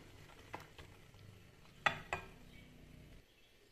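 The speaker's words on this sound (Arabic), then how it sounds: "غادي نحرك مزيان،" A spoon stirs millet soup in a pot as cold water is mixed in to keep lumps from forming, leaving soft scraping swishes and a couple of sharper clinks against the pot, close and quiet with no speech.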